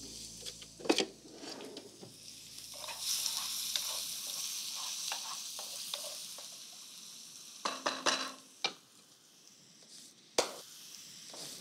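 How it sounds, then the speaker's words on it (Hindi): Finely chopped onion frying in oil in an Indian home kitchen, with a steady soft sizzle under repeated stirring scrapes and a few sharper clicks of a spoon against the pan. It is fairly quiet and close, with no talking. "तेल में ये बारीक कटा प्याज,"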